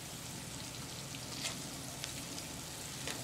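Sliced onions for palak paneer frying in oil in a pan on medium flame, a steady close hiss and crackle with faint pops, no voices over it.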